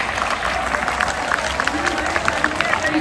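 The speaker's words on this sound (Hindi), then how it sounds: "तालियों से सबका स्वागत करेंगे" A crowd at a Bharat Vikas Parishad event in Rohini claps steadily to welcome guests, a dense patter of applause with murmuring voices mixed in underneath.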